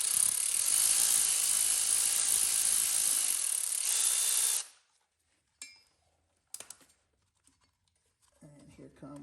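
A ratchet wrench whirs in a loud, steady, close buzz while backing out intake bolts on an engine with Bosch K-Jet injection, then stops, followed by a few metallic clinks and a short voice.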